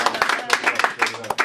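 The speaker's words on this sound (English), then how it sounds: "Give a round of applause for" A small audience bursts into quick, close clapping for a singer during an interview, brisk and uneven over about a second and a half.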